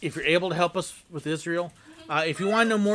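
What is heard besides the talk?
None of the usual background noises is heard.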